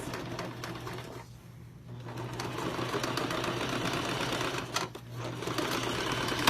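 A sewing machine stitches a zipper into a fabric pouch in a fast steady whir, stopping briefly twice before starting up again.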